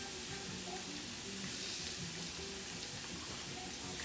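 Rice sizzles softly in browned butter in a skillet, a steady faint crackling hiss with no talk.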